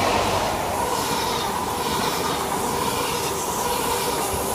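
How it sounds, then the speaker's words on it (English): A train rushes through platform 1 at Berwick-upon-Tweed station, a loud, steady roar of wheels and carriages with faint squeal and rail clatter, no voices. "Passing train through platform 1 at Berwick upon Tweed."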